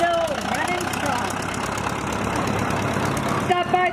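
A Big Four farm tractor runs in a Fourth of July parade, its engine giving a steady, fairly loud rumbling drone that continues while a voice talks over it.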